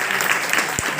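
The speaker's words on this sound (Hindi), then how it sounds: "तालियां जोरदार बजाओ।" Audience applause at a school farewell ceremony, a dense burst of clapping filling the short moment, close and loud.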